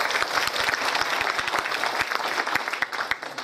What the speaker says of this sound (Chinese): 现在我们以最热烈的掌声感谢潘老师的讲座